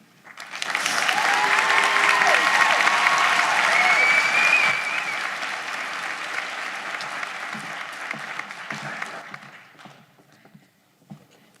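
Audience applause at a 2025 high school graduation ceremony, a broad sustained wash of clapping from a large crowd that swells, holds for several seconds, then gradually tapers away, with faint voices mixed in.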